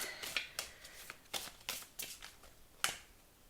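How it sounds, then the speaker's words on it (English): Tarot cards are shuffled by hand in a quiet room, giving a series of soft, brisk riffling snaps that come in irregular bursts close to the listener. "I forgot how to even shuffle my cards"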